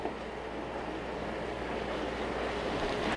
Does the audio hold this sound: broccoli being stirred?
yes